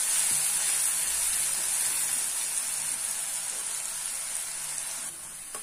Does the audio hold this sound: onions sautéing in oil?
yes